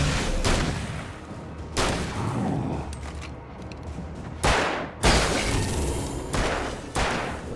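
Loud, booming shotgun blasts from Alan Wake arrive at spaced intervals, about six heavy shots with ringing tails in between and no talking.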